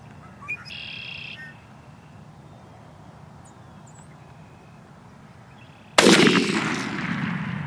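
During a spring Wisconsin turkey hunt, a single loud, close shotgun blast bursts out after several seconds of quiet outdoor ambience with brief birdsong early on, its echo rolling off afterward.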